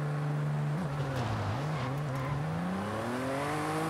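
A Toyota TRD V6 car engine in Forza Horizon revving steadily toward roughly 6,800 RPM, a loud continuous drone that dips and then climbs in pitch, heard alone without talk.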